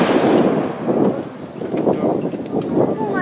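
Heavy artillery battery of field guns firing a salvo at a nostalgic emplacement demonstration, heard as repeated booming bursts with rumbling echo and wind noise, while voices shout in the background.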